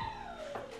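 Dogs whimper and yip indoors, a thin, high falling whine followed by a brief yelp, faint and close-sounding.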